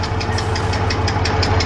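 A K700 tractor, a large Russian farm tractor, runs with a loud, close, rumbling engine. A rapid, regular knocking pulse rides over a heavy low drone.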